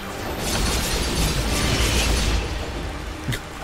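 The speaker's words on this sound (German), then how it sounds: "Und alles explodiert" An in-game explosion in the action game Dust erupts as a broad, sustained rumbling blast with crackling debris, swelling and then fading, followed by a brief sharp pop near the end.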